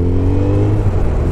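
A Kawasaki Ninja 1100cc motorcycle engine revs up close and loud, a steady, strong droning roar with rising harmonic tones throughout.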